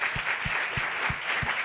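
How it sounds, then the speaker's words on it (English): Conference audience applauding a group of young leaders at a summit event, a continuous mid-level wash of many hands clapping, with a few faint low thumps pulsing regularly beneath it. "please join me in the round of applause for this set of young leaders"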